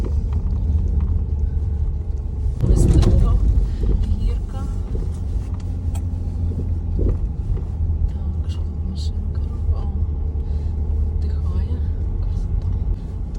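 A car climbs a steep, slippery uphill road in second gear with an automatic gearbox in manual mode, its engine a steady low rumble that swells briefly as the throttle is pressed, heard from inside the cabin.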